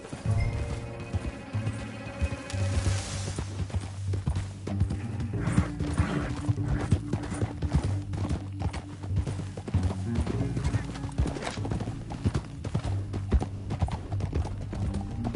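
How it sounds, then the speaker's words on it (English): Rhythmic clip-clop of galloping horse hooves in Red Dead, steady and continuous at moderate volume, with a faint whinny early on and game ambience underneath. "Get back on your horse."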